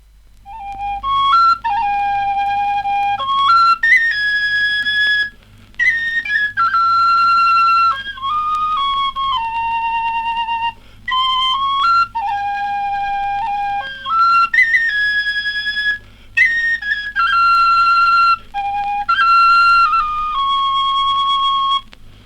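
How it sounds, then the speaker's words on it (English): A tin whistle plays the plaintive Cumberland air Corby Castle, a solo melody of clear, sustained high notes with brief pauses between phrases, close and fairly loud over a faint low hum. "The plaintive air you've just heard on the tin whistle is Corby Castle."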